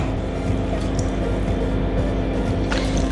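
Lemon juice is poured onto pepper-seasoned prawns, a short wet trickling and dripping close by over a steady low background hum, with no talk.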